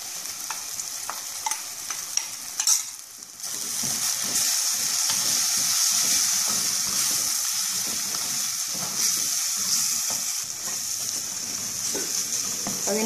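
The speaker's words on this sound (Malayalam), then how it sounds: "അതിൻ്റെ പച്ചമണം മാറുന്നത് വരെ ഇളക്കി" Meat masala powder for crab curry fries and is stirred in a pan, a steady bright sizzle with intermittent scraping strokes of the spoon, close and continuous, with no talk.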